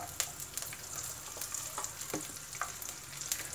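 Dried red chillies and garlic fry in hot oil in a pan, giving a soft, steady crackling sizzle with scattered small pops, fairly faint and close. No one speaks.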